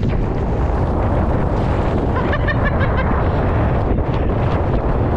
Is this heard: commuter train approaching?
no